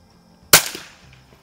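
A single sharp rifle shot from a Quackenbush safety cartridge rifle fired at an outdoor range at about 50 feet, a loud crack followed by a short decaying echo, with no talking.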